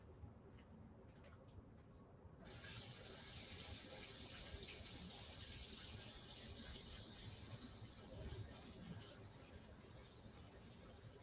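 A paintbrush is rinsed under running tap water in a sink, a steady gushing hiss starting after a couple of seconds of quiet and continuing evenly to the end, with a few faint squeaks before the water begins.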